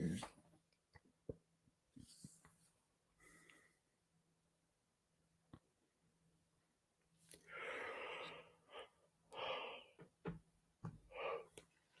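During a quiet spiritual meditation practice, a person lets out a long, breathy yawn in several airy surges with soft breaths and small mouth sounds around it, close and fairly quiet.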